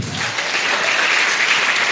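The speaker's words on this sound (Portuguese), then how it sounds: "Dê aplauso ao Senhor." A church congregation claps together in praise during a service, a dense, loud, sustained burst of applause filling the room for a couple of seconds.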